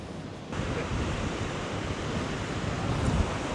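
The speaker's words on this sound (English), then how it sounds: "Yeah, this would be nice if it wasn't windy." Steady wind blows at an ocean beach campsite on Bribie Island, a continuous broadband rush mixed with surf that stays loud and even throughout, growing slightly stronger toward the end, with no talking.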